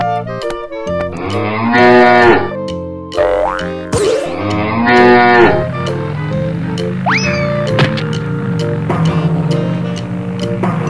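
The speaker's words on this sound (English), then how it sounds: "Cow." A cartoon cow moos in long drawn-out calls against bouncy animated music with boings, loud and close throughout, in a playful animal-crossing fountain scene.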